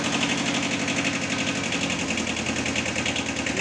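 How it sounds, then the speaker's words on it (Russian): A Kubota B6000 compact tractor diesel engine idles inside a garage, a loud, steady, rapid knocking rumble that continues unbroken and close, with no talking. "Вот. Завел трактор."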